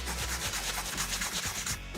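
Close, steady sanding strokes rub along a wall edge and the top of an angled baseboard, a continuous gritty scraping with no talk.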